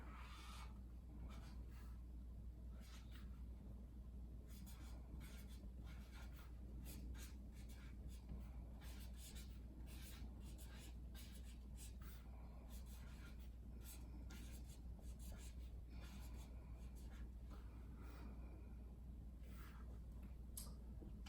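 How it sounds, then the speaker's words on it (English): A pen scratches across paper in short, irregular strokes, close and fairly quiet over a steady low room hum, with no talking. "So we'll write that down here."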